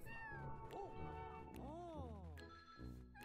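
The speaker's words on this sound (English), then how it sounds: "Oh, the cats are here." Several cartoonish cats meow repeatedly in Super Mario 3D World + Bowser's Fury on Nintendo Switch, with high, sliding cries layered over steady game music.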